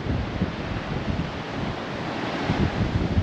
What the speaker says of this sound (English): It is getting very breezy on this side.